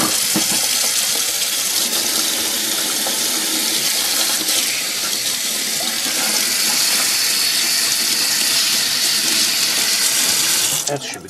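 Tap water gushes steadily into a sink while hands are rinsed, a loud, close, continuous rush lasting about eleven seconds before cutting off, with no talking.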